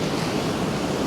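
Ocean waves crash and wash over a rocky shore at a remote beach in General Nakar, Quezon, a dense, continuous roar of surf with wind noise buffeting the microphone.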